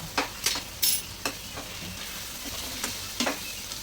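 Beaten eggs being mixed with cumin powder in a bowl, a spoon or whisk scraping and clinking in several quick, irregular strokes, close and fairly quiet, with no voices.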